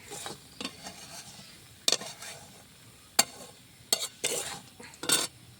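Semolina barfi mixture coated with nuts is stirred in a pan with a soft scraping bed, broken by several sharp spoon-on-metal clinks and scrapes as it is poured out onto a plate.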